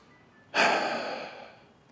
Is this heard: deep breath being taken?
yes